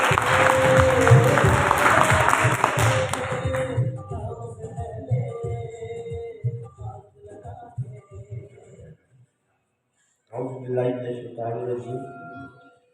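Audience applause at a ceremony, a dense burst of clapping that fills the first few seconds and then fades as a voice takes over and continues speaking.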